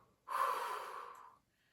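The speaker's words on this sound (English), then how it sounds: "a specific breathing thing where you're blowing out the candle" A single steady exhaled breath blown out through pursed lips like blowing out a candle, close and clear, lasting about a second in quiet surroundings.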